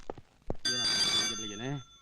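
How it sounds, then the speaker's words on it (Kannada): A telephone bell rings in a police station, a steady electronic trill sustained for about a second after a couple of short thumps, with a voice speaking briefly alongside it. "ಯಾರಿಗೂ ಫೋನು?"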